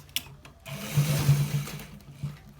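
A sewing machine stitches a buttonhole on a shirt, a short run of mechanical whirring and rapid needle clatter rising midway, fairly close and moderately loud, with no talk.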